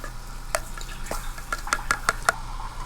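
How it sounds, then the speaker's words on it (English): Baked beans being stirred in a pot on an antique wood cookstove, a spoon scraping and knocking against the pot in a handful of sharp taps and scrapes over a low steady background hum. "I'm going to stir them."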